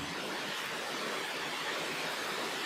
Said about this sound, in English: There is a sound of rain.